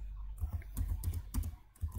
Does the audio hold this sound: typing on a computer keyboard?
yes